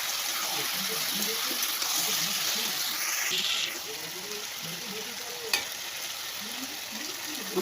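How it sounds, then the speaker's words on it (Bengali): Fish heads and vegetables stirred in a frying pan, a steady sizzle and fry with soft, repeated scraping strokes of the spatula, close and continuous throughout. "মাছের মাথাগুলো দিয়ে নাড়াচাড়া করে নিই"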